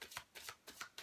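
A tarot card deck is shuffled in quick, soft riffling bursts, about five short rustles in one second, close but faint, with no speech.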